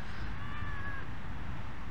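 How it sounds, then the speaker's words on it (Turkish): A cat meows once on an Istanbul street, a drawn-out mid-pitched cry over steady low outdoor rumble, fairly close. "Böyle her yerde bir kedi var."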